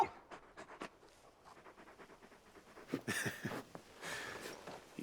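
Torgal, a large dog in Final Fantasy 16, pants with quick, rhythmic breaths, close and soft at first, then heavier, louder huffs toward the end.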